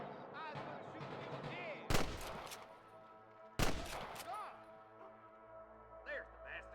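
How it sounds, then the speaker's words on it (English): Two sharp gunshots ring out about two seconds apart in the video game Red Dead Redemption, loud against a busy bed of game music and ambience. "I can hear more gunshots."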